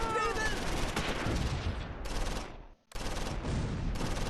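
Machine guns fire in the World War II strategy game Close Combat IV, dense sustained bursts of gunfire with overlapping shots, loud and continuous apart from one brief pause before firing resumes.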